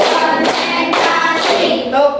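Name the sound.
children clapping in a counted clapping game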